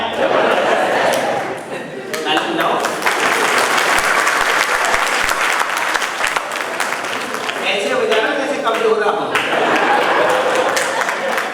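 An audience claps steadily at a Jain wedding ceremony, a loud, sustained round of applause with a few sharp thumps, while someone speaks briefly over it.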